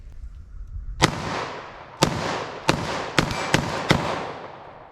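Six sharp gunshots from a .410 revolver fired at cardboard targets ring out at uneven intervals, each loud crack trailing off into a brief echo, with no voices.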